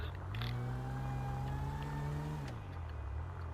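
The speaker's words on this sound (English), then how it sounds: "That little car sure is noisy." Small car engine buzzing in Grand Theft Auto V, a steady mid-pitched drone that climbs slowly in pitch as it revs, then drops off and settles, heard fairly close and alone.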